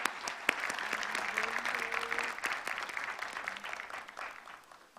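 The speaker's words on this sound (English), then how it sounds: "I would request all of you to really clap for all the family members of the awardees." An audience at a humanitarian award ceremony applauds the family members of the awardees, sustained clapping with a few faint voices mixed in, tapering off near the end.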